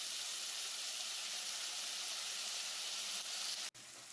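Ginger garlic paste fries with chicken in a pan, giving a soft, even sizzling hiss that holds steady from start to end, with one brief click near the end and no talk.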